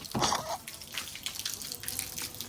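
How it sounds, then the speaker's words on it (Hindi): Tap water runs for plants on a rooftop at home, a faint, steady trickle with a brief louder splash at the start and light dripping throughout, close by and with no talk. "पानी चलाते हैं और पौधों में पानी डालते हैं"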